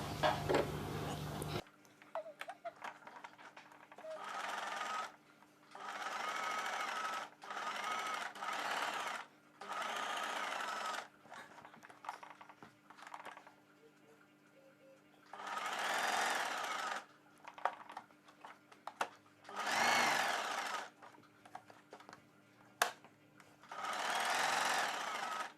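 A sewing machine stitches around the neckline of a prince-cut kurti in repeated short bursts of varying length, close and fairly quiet, with handling noises in the gaps between runs.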